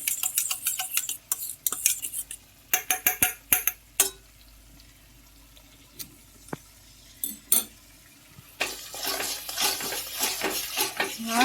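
Beaten sour yogurt being stirred into spiced cauliflower roast masala in a metal pan, with repeated close scraping and clinking of a spoon against the pan, quick bursts of stirring separated by pauses, then a longer stretch of sizzling.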